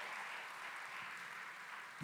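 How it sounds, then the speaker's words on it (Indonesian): A church congregation applauds, a steady wash of clapping held at an even level for about two seconds, with no one speaking over it. "Kita kasih tepuk tangan yang paling meriah."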